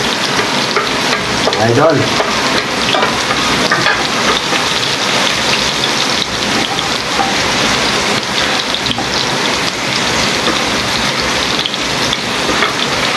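Onions sizzling loudly as they go into a hot pan for sotanghon soup with soy sauce, a steady broadband frying hiss running throughout with brief stirring scrapes, and a voice speaking faintly near the end.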